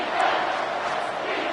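A packed stadium crowd roars steadily in an American college football video game, a dense sustained wall of cheering at moderate loudness during a false start near the goal line, with no commentary heard over it.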